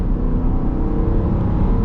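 A 2026 Dodge Durango GT Premium's V8 drones loud and close in a sustained, even pull, with no speech over it.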